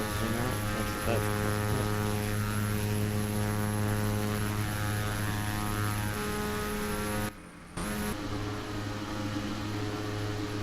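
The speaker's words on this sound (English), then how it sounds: "Now the autopilot's flying the plane." A propeller airplane engine in the Microsoft Flight Simulator X game drones steadily with a strong harmonic hum, holding a constant loud tone that cuts out briefly and then resumes.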